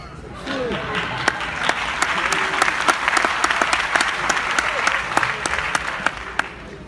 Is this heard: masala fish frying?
no